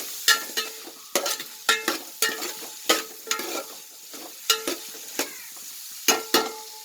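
Chopped onions and green chilies frying in a pan for mutton biryani, a sizzling bed punctuated by about a dozen sharp spoon scrapes and taps against the pan at irregular intervals, close and loud.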